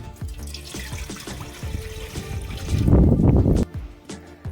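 Water pours from a tap into a cooking pot set on a stove, splashing and trickling close by, swelling louder near the end before stopping abruptly.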